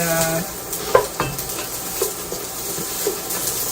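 Celery being sautéed and stirred in a soup pot gives a soft sizzle under scraping stirs, with a few sharp utensil knocks against the pot, close and fairly loud, with no voices.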